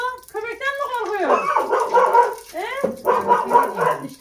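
A dog barks and yips repeatedly at close range, a rhythmic run of barks with whimpering tones, while people talk in Turkish underneath.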